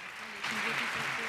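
Applause breaks out at the Berlinale award ceremony, a dense wash of clapping that swells after a brief quieter moment and carries on steadily, with voices murmuring faintly underneath.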